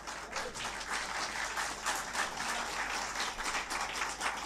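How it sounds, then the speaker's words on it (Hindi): An audience at a skills event organised by FPRT claps steadily, a dense, continuous wash of applause filling the room at an even, fairly loud level with no voices. "आपकी तालियां बता रही है कि आप आके यहाँ प्रसन्न हैं"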